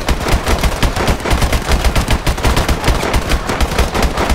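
Rapid automatic gunfire in the video game Call of Duty Advanced Warfare, a loud continuous burst of evenly spaced shots firing without pause, close and dominant.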